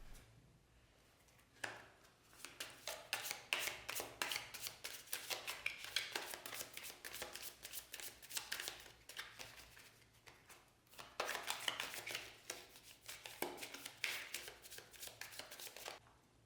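Tarot cards are shuffled in a long, steady run of crisp riffling and flicking, with a short pause partway through, close and soft with no talking.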